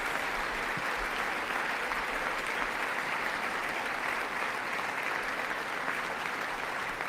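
Steady, dense audience applause fills a large hall during a Trump address, a continuous wash of clapping heard at a distance with no talk over it.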